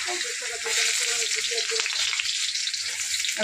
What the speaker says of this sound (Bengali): আর আলু তেলে দিয়ে দিলাম